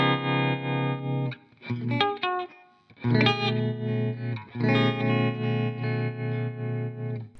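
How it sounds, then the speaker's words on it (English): An electric guitar played through a tremolo effect in Amplitube 5 amp-modelling software, sustained distorted chords pulsing in steady rhythmic volume swells, broken by a few short picked phrases and brief pauses, with no talking. "So, we've got the Tremolo on there."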